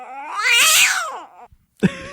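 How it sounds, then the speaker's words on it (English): A loud, close cat yowl swells and wavers for over a second, then after a brief pause a short, abrupt second cry follows, with no talking. "Down, kitty."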